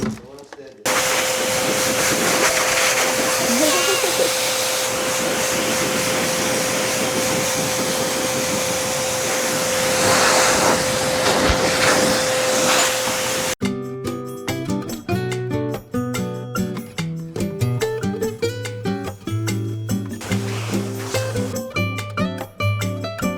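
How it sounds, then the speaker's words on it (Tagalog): A hair blow dryer runs as a loud, steady broadband whoosh with a constant whine. It stops abruptly partway through, and choppy, rhythmic sounds follow. "ito yung blow dryer."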